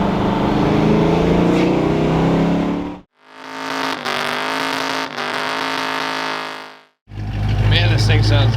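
A twin-turbo car engine warms up on a cold morning, idling with a loud, steady rumble. It runs in long stretches broken by two short near-silent gaps, and a voice seems to speak over parts of it.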